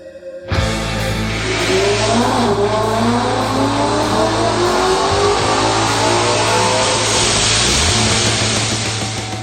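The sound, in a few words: 2011 Ford Mustang 5.0 with Paxton supercharger on dyno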